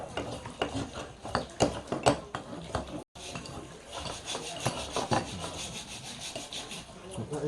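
Repeated scraping and rasping of a blade shaving the corners of a wooden chopstick, in short irregular strokes, close and steady, with a brief pause partway through.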